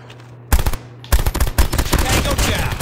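Rapid automatic gunfire from a Call of Duty game, loud bursts starting after a half-second pause and then rattling almost continuously, with game voice callouts around the shots.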